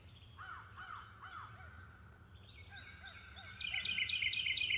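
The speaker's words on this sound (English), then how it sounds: "P for Parrot." A bird gives a series of harsh, rising calls, several in quick succession, fairly clear over a faint background hiss, with a louder burst of chattering near the end.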